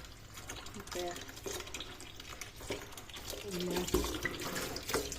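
Mushrooms being rinsed by hand in water at a kitchen sink for a Goan mushroom curry: steady splashing and sloshing, moderately close, with a voice heard briefly in the background.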